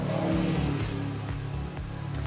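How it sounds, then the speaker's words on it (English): A 1993 Subaru Impreza drives down the road, its engine a low steady hum with tonal drone and road rumble heard from inside the car, fairly even in level with no speech. "I got the old 93 Impreza all fixed, took it down the road."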